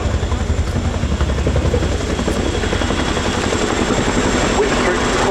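Royal Air Force Chinook HC6 twin-rotor helicopter performing at an air show display, a loud steady rotor thump and engine roar holding constant and close, with a voice faintly underneath.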